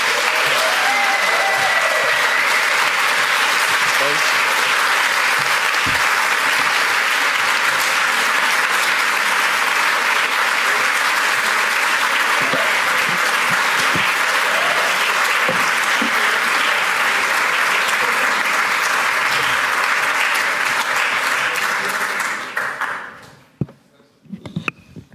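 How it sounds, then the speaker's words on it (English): Sustained, loud applause from a large audience greeting two speakers at an evening film talk, dense clapping running unbroken for over twenty seconds before tapering off abruptly at the end. "give a big hand of applause for Srećko Horvat and Alfonso Cuarón"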